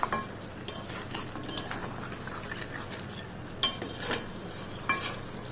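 Country chicken curry being stirred and sautéed in a pan, a utensil scraping and clinking against the metal in irregular strokes over a steady low sizzle, with a few sharper knocks standing out.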